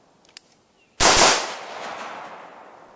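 A 5.56 carbine fires a single loud shot that cuts in sharply and rings out in a decaying echo, with a faint click just before it.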